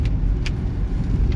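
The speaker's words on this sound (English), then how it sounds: "to be honest, I'm a little bit nervous about driving out here in the rain." A car drives along a twisty back road in steady rain, giving a continuous low road rumble with tire hiss and faint brief clicks on top.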